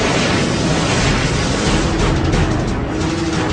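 AMRAAM missiles launch from a fighter jet's internal weapons bays in a loud, continuous roaring blast of broadband rocket noise that holds steady for the whole stretch, with no voices.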